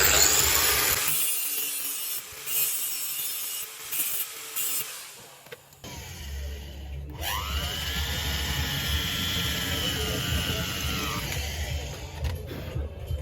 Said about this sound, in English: we shall drill with 8 millimeters.